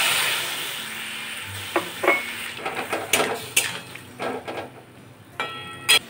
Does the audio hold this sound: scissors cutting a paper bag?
no